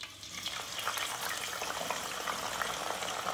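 Potatoes frying in hot oil give off a steady, dense crackling sizzle with fine bubbling, continuous and fairly quiet, with no voices.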